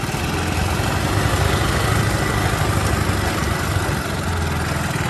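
A made-in-Nepal buggy car engine runs steadily and loud throughout, a dense rough motor drone with low rumble and no pauses or talk.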